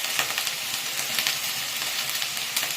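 Chopped tomatoes sizzle and fry in hot oil in a pan for a fish curry with cauliflower, giving a steady close crackling hiss with small spitting pops and occasional stirring scrapes, with no voices.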